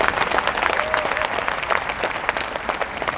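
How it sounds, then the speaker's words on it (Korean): An audience in a national parliamentary audit hall gives a round of applause: close, dense clapping that stays full and even for the whole three seconds. "애들한테 여러분 박수 한번 다시 한번 보내주셔야 됩니다"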